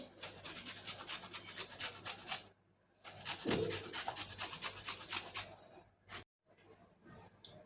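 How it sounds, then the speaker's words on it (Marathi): A peeled half carrot is grated by hand in kitchen food prep, producing close, rhythmic rasping strokes in two steady bursts with a short pause between them, then a few softer scrapes at the end. "ते आपल्याला किसून टाकायचे ह्याच्यामध्ये"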